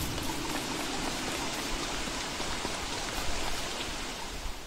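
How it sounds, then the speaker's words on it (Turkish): Rain falls in the video game Don't Starve: Reign of Giants, a steady loud hiss of downpour with no breaks, alone and without speech. "Yağmur da yağıyor ya."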